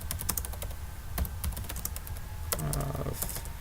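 Computer keyboard typing during a programming lesson, bursts of close, crisp key clicks of uneven rhythm over a low background hum, with no voice.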